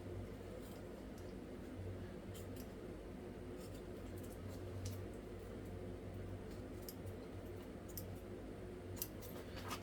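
Faint, sparse snipping clicks of scissors trimming an exotic inlay rifle sling, spread out over a low steady hum with no talking.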